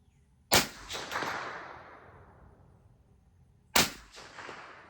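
Two sharp rifle shots from a basic Ruger 10/22, fired with different ammunition, about three seconds apart, each a loud crack trailing off into an echo that fades slowly.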